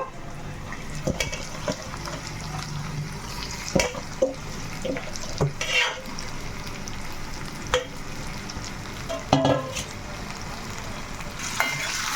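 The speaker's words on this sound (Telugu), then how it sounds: "ఇప్పుడు ఆ చికెన్ అయితే వేసేసుకుందాము" Marinated chicken coated in masala and chili powder fries in a pan with a steady sizzle, broken by occasional clinks and scrapes of stirring, close and moderately loud with no voices.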